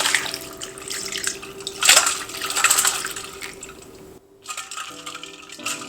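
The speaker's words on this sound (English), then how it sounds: "Soak gelatin sheet in ice water." Water splashing and trickling as a gelatin sheet is soaked in a bowl of ice water, with close, uneven sloshes and a sharper splash partway through, then a brief pause before more gentle movement.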